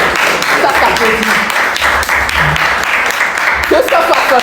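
Loud applause from a large audience at a Guinea versus Cameroon challenge event, continuous and dense, with a voice speaking over it throughout.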